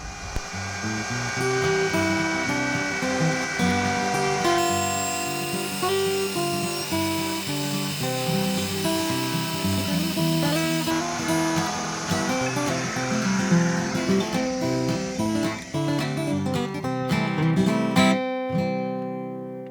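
A drill bit chamfers a soft metal housing with a steady, high-pitched whirring drone, sustained for many seconds with shifting pitch before cutting off near the end.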